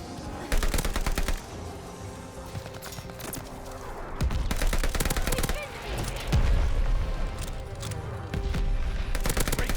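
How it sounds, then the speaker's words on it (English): Rapid gunfire and heavy impacts from mortar strikes fill a Call of Duty match, dense bursts of shots with loud booming hits, close and loud throughout. "Mortars incoming!"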